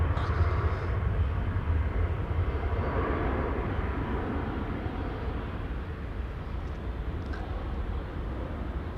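An Airbus A320 takes off at foggy Amsterdam Schiphol, its engines giving a continuous broad roar that is loudest at first and slowly eases, with no voices.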